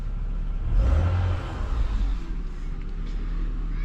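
A Ford Territory engine with a throttle controller in race mode rises in a short rev, swells and then settles into a steady hum, heard from inside the car with no one talking.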